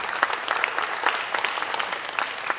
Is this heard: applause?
yes